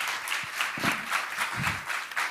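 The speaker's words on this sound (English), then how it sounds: "Give them a big applause." Audience applause at a startup demo day: steady, dense clapping from a crowd, holding at an even level for a couple of seconds with no talking over it.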